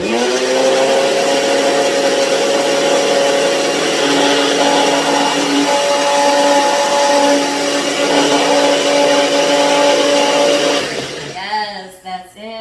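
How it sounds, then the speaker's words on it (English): A kitchen blender runs loud and steady for about eleven seconds, blending zest for a Lebanese fattoush salad, then spins down and cuts off near the end. "And now it's time to blend this lovely zest all together."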